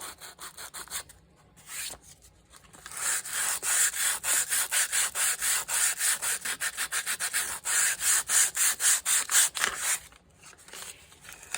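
Bare hands rub sandpaper over a cover, making a fast, rhythmic back-and-forth scratching with dozens of even strokes. The sound stays close and fairly loud, with brief pauses near the start and the end.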